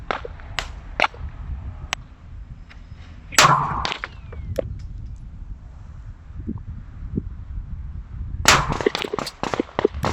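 Sharp rifle shots from a BE and P 10S fired outdoors at 100 yards in gusty wind, two loud cracks a few seconds apart among smaller clicks and handling knocks, with wind rumble underneath.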